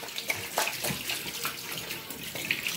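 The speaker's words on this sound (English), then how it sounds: "So I'm gonna throw off the water of it and wash it off now" Tap water runs steadily over salt fish being rinsed in a kitchen sink while preparing ackee and saltfish, a close, continuous splashing stream with small spatters and no talk.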